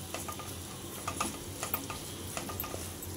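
Dry coconut powder roasting in a pan for rajgira gul papdi, a soft steady crackle with light spoon scrapes and stirring taps running throughout.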